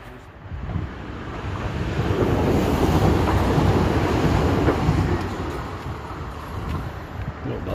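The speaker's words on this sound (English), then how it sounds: "Train's coming through." Train passing through a level crossing on a windy day, a broad rumbling roar that swells and then fades over several seconds, mixed with wind buffeting the microphone, and nobody talking.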